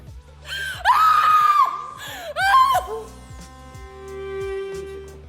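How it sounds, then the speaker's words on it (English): A woman's anguished scream of grief from the musical Hamilton rises in two long, piercing cries over a low pulsing musical backing, then fades into a held tone. "the silencing, deafening scream that you hear in the musical"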